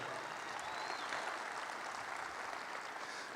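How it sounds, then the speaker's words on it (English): Audience applause fills the space, a dense, even wash of clapping from a crowd that holds steady for a few seconds and sounds somewhat distant. "Give yourselves a round of applause."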